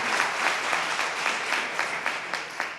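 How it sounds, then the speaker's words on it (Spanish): A forum audience at a university funding event claps steadily for a few seconds, a dense even patter of many hands at moderate distance with no voices over it. "Agradezco los aplausos y eso nos estimula a trabajar con la mayor inteligencia y racionalidad posible."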